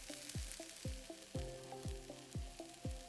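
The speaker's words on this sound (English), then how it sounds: "Okay, starting to hear that frying sound from the pork." Ham hock pork frying in a pan gives a steady hiss of sizzling fat, broken by a series of sharp, rhythmic knocks or taps close by.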